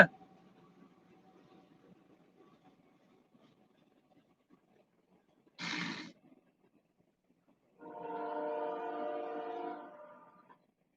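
Near silence broken by a short, harsh burst, then a long, loud tonal train horn blast lasting a couple of seconds before fading out.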